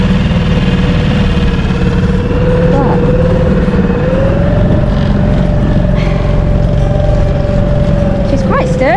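The outboard engine on a Truekit Discovery 2.8 inflatable boat runs at a steady, buzzing drone with a constant whining tone, close and loud, while people talk over it and occasionally exclaim.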